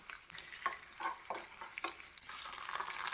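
Mustard seeds, fenugreek, curry leaves and split dried red chillies tempered in hot oil and poured into a Kerala-style papaya pulingari curry, giving a close, steady crackling sizzle with a few sharper spits and stirring clinks, no voices.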